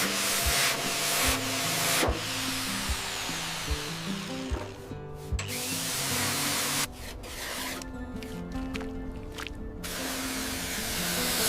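Manual rust scraping on parts of a 1943 WWII Sherman tank gives repeated short rasping and scratching strokes in an irregular rhythm, close by and steady, with no voices.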